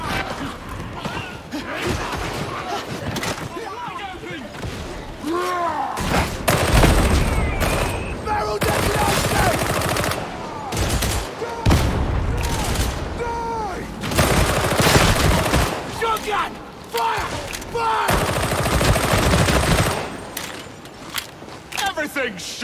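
Gunfire in the video game Warhammer 40,000: Darktide, with dense, repeated bursts and shots, impacts and crashes throughout a chaotic fight, while characters shout over the combat.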